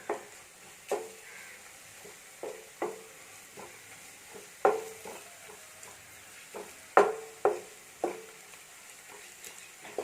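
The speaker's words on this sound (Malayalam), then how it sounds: "നന്നായിട്ട് ഇളക്കി കൊടുക്കണം." Chicken curry stirred in a pan with coriander powder, a spoon scraping and knocking against the pan in irregular strokes over a low sizzle, close by with no speech.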